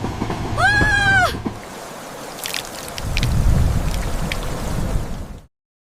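Rain falls in an animated cartoon about a coconut tree: a steady, moderately loud hiss of rain runs through the second half, after a rising whistle-like tone and a quieter stretch at the start.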